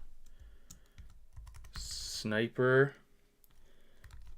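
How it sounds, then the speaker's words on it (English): Soft computer keyboard clicks tap away at close range as someone types into a chat, with a brief spoken word cutting in midway. "I'll type it in the chat right now"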